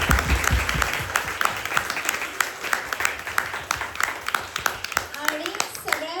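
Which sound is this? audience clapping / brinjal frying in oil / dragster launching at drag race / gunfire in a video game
audience clapping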